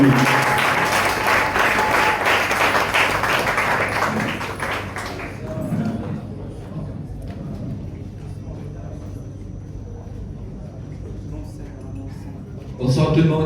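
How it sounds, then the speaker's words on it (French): Audience at a café slam poetry night applauding a poet, loud dense clapping for several seconds that fades into scattered claps and room murmur, then swells again briefly at the end. "On applaudit très très fort pour lui."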